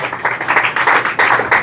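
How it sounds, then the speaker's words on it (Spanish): A church congregation claps during a Sunday service, with rhythmic bursts of many hands beating together in quick pulses that stay close and lively from start to finish. "Un aplauso al Señor"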